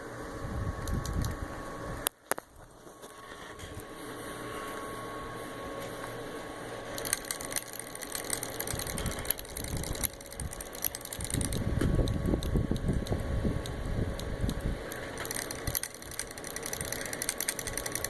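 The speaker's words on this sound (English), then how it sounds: "you can actually feel the solenoid firing. Not only hear it, but it's so loud" Rapid mechanical clicking and buzzing from the solenoid trigger of an ICD Bushmaster airsoft rifle, loud and close, running steadily with a short break near the start.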